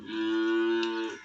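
A toy bull lets out a single steady electronic moo, close and loud, sustained for about a second with no other sounds.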